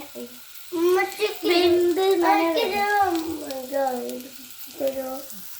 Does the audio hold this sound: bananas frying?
yes